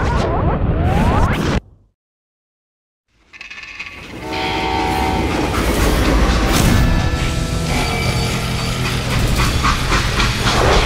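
A train in the video game Call of Juarez: Gunslinger rumbles and clatters loudly with a horn blaring, briefly cut to silence before the heavy rail noise resumes and continues steadily.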